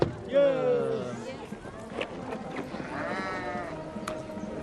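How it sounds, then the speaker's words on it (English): Blackface sheep bleat on a farm, a loud close bleat at the start and a second longer one later, with people talking over and between the calls. "Come and look at the sheep."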